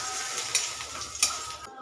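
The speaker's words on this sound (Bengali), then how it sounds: "বড়িগুলো লাল লাল করে ভেজে তুলে নেবো" Lentil dumplings (bori) fry in hot oil in a home kitchen, giving a steady, close sizzle with two brief clinks of stirring.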